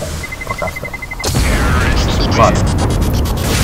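A loud, close bomb explosion in the video game Counter-Strike: Global Offensive bursts in after a faint beeping, followed by a sustained roaring rumble.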